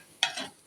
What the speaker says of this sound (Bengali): দেখেন পেঁয়াজ ভাজতাছি